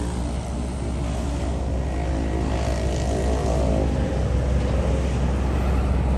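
A Land Rover LR4 engine roars close by in a steady, throaty drone as it revs, its pitch shifting slightly partway through.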